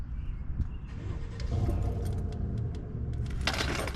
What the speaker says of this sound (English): Get the car started.